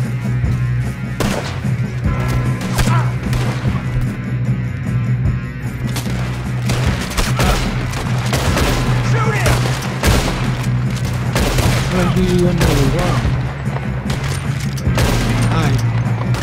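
Sustained gunfire from a gunfight in Red Dead Redemption 2 during a luxury train robbery, dense rapid shots and booms over a steady low rumble throughout, loud and close, with occasional voices.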